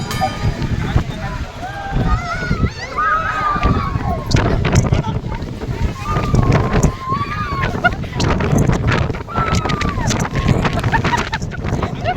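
Strong wind on a hilltop near Himavad Gopalaswamy Betta, gusting and buffeting the microphone in a steady roar while several people talk throughout.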